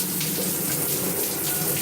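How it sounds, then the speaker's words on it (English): Water runs from a hotel shower in Milan, a loud, steady hiss of spray that stays constant throughout. "So it seems like a normal shower."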